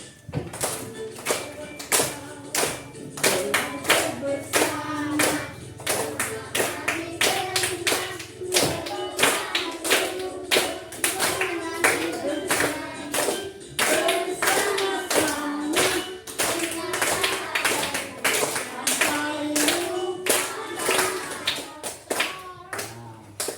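A classroom group clapping hands in a steady rhythmic pattern, sharp sharp repeated claps continuing for over twenty seconds, with a song or voices faintly running underneath.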